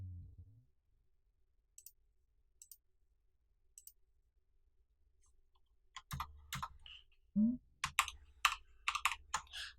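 Keys tap on a computer keyboard while commands are entered in a Linux terminal, sparse isolated clicks at first, then a quicker cluster of keystrokes, close and fairly quiet with no talking.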